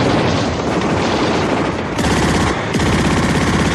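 Machine gun fire evoking a Winter War battle between Finnish and Soviet forces, dense loud bursts of rapid shots that blend into a continuous roar, with sharper rattling volleys near the end and no voices.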